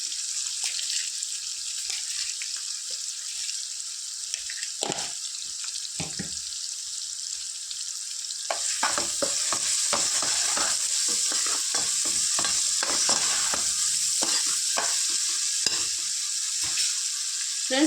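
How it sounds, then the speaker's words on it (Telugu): Onions frying in a pan for fish curry: a constant bright sizzle fills the whole stretch, with intermittent scraping stirs and clatters growing busier in the second half. "చికెన్ మటన్కి అయితే ఆనియన్స్ ఇట్లా ఫ్రై చేయాలి ఫ్రెండ్స్"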